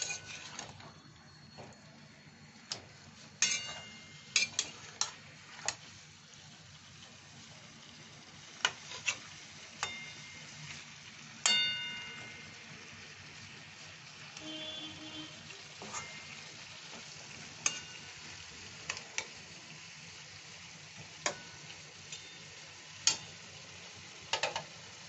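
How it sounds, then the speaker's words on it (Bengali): Chicken curry cooked without masala being stirred and sautéed in a pan: a quiet, steady sizzle under repeated sharp clicks and scrapes of a spatula against the metal at irregular intervals, with no talk. "এই যে আমি এটা কষে নিচ্ছি"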